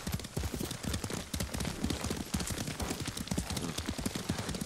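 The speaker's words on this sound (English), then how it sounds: "Lord Sakai taught me to ride a horse." Horse hooves gallop in Ghost of Tsushima, a steady fast clip-clop rhythm that carries on loudly for the whole stretch over a dense wash of game ambience.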